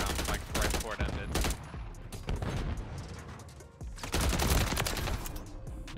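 Gunfire in a Modern Warfare 3 match comes as repeated loud, close bursts and cracks, with spells of rapid fire broken by short gaps, layered over busy game sound.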